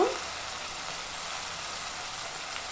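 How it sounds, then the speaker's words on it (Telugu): Drumstick leaves hitting hot oil with frying onions give a steady, loud sizzle and crackle that starts with a brief burst and holds evenly throughout. "ఉల్లిపాయలు వేసిన వెమ్మటే ఇదిగోండి మునగాకు కూడా వేసేసుకోవాలి వేస్తున్నానండి ఇదిగోండి వేసేసాను"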